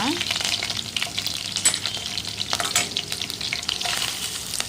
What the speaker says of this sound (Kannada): ಅರ್ಧ ಸ್ಪೂನಷ್ಟು ಸಾಸಿವೆ ಎರಡು ಹಸಿಮೆಣಸಿನ್ಕಾಯಿ ಕರ್ಬೇವಿನ ಸೊಪ್ಪು ಒಂದು ಕಡ್ಡಿ ಸ್ವಲ್ಪ ಫ್ರೈ ಮಾಡೋಣ